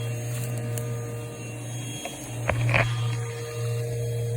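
A vacuum draws baldfaced hornets off a protective veil while a wasp nest is removed, giving a steady motor hum with a few brief clicks and thumps as insects are pulled in.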